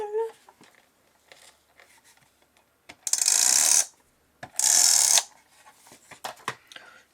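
Two loud grinding, rasping passes of a card-making crafting machine being cranked, each about a second long, set between quieter clicks, paper handling and light fiddling sounds.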